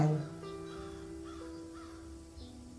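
A crow caws several times as a horror-story sound effect, harsh calls spread over a few seconds against a steady low drone, moderately loud and with no speech over them.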